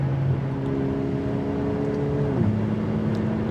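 A Ferrari 488 Pista cruises on the Autobahn, its engine a steady droning hum inside the cabin under broad road and wind roar, the pitch dropping noticeably partway through as it shifts.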